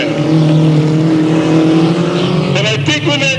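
Race cars roar around the track at Delta Speedway, a loud sustained engine drone with rising and falling pitch as cars pass, with a commentator speaking over it.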